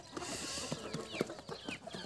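Desi Teni and Aseel fighter roosters on an open free-range poultry farm make a few short, soft clucks over steady outdoor background noise.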